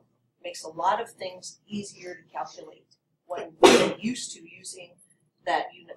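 A single sharp, loud sneeze bursts out in a classroom during a math lesson, standing out briefly between stretches of a teacher's steady lecturing voice.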